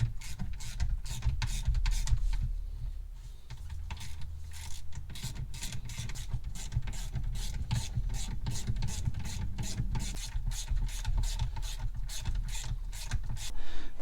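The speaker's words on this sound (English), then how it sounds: "Torque these down to 28 foot-pounds" Rapid ratcheting clicks from a wrench snugging cap screws on an ATI Super Damper for a Dodge SRT-4, a fast steady train of sharp ticks running throughout over a low background hum.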